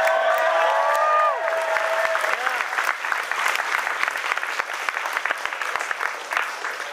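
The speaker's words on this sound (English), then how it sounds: "so big round of applause" An audience at the Auto Assembly 2010 car convention applauds, dense continuous clapping from a crowd that begins loud and gradually thins, with a voice briefly audible over it at the start.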